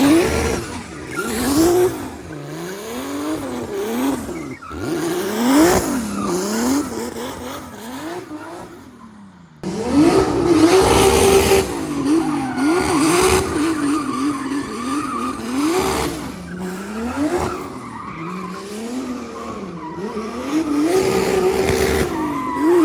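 A car driven hard around a fence-lined course, its engine revving loudly and close while tires squeal repeatedly throughout, with one brief dip in noise partway through.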